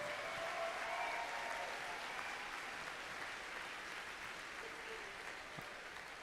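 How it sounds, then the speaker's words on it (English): A crowd at a robotics state championship gives the judges a long round of applause, steady and distant-sounding, fading slightly toward the end. "let's give the judges one more huge round of applause for just a difficult job"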